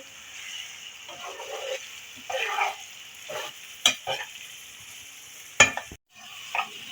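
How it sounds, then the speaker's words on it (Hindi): Stuffing is stirred and fried in a pan, with soft continuous sizzling broken by several scraping strokes and a few sharp clacks of the spoon against the pan, close up and with no voices. "अब हम इनको मिक्स करेंगे अच्छी तरह से, पका लेंगे इसको।"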